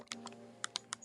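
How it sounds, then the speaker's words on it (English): Nintendo Switch controller buttons and analog stick clicking in a quick irregular series of sharp, close taps, about half a dozen crisp clicks with short gaps, in a quiet room with no talk. "I'm hearing clicking like that and button clicking. Oh, that's just me playing on my the Switch."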